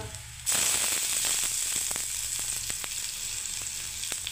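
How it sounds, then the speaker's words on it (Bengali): Chopped tomato hits a hot pan on a low gas flame and bursts into loud, steady sizzling, with scattered clicks and pops of stirring throughout. "এবার আমি টমেটোটা দিয়ে দিচ্ছি, টমেটো কুচি দিয়ে দিচ্ছি বন্ধুরা"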